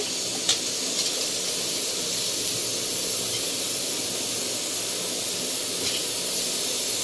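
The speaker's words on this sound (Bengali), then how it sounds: "এখানে জিরে ফোড়ন দিয়ে দিচ্ছে" Cumin seeds sizzle in hot oil, tempering a thin potato and eggplant hilsa fish curry. A steady, even hiss continues throughout with no talking.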